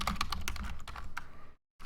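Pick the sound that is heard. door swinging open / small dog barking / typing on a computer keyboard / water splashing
typing on a computer keyboard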